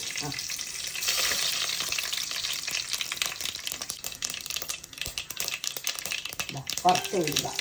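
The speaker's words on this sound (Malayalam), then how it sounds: "എണ്ണ ചൂടായി അപ്പൊ അമ്മ അതിൽ അധികം ഒന്നും ചേർത്തില്ല ഇതാ കടുകും കുറച്ച് ഉലുവയും കുറച്ച്" Mustard seeds and fenugreek fry in hot oil for a Kerala chilli-tamarind dish, a bright crackling sizzle that stays steady and close throughout, with a few clinks from a utensil and faint voices in the background.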